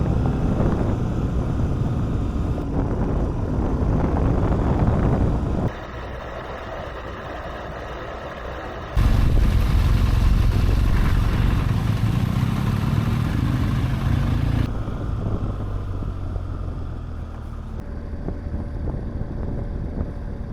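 A motorcycle ridden on mixed road and track roars with engine drone and heavy wind buffeting, the level jumping between loud stretches and quieter ones as the ride goes on, with no talk.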